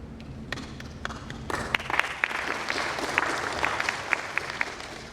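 An audience at a candidate forum claps in a room, starting thinly with a few scattered hands and then swelling into steady moderate applause, with sharper individual claps standing out near the end.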